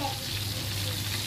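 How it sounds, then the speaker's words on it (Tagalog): Steady sizzling and crackling of chicken frying in hot oil, continuous and close, with a low hum underneath. "Tapos prito po ng manok."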